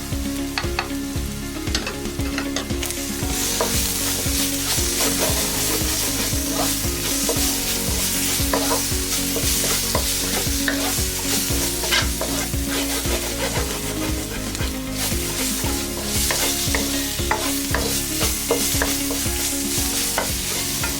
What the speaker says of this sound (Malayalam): ഇനി ഇതിൽ ഗരം മസാല ചേർത്ത് ഇളക്കുക.